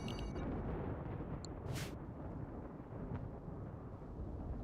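Low, faint thunder rumbles through a dry thunderstorm in the RimWorld colony game, a continuous distant roll with a brief crackling burst partway through.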